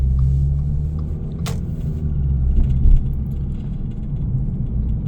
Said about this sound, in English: Car runs beautifully now.